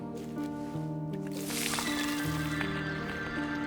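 Watering plants in the video game Wanderstop: a soft burst of splashing water over steady, gentle plinking game music with sustained melodic tones.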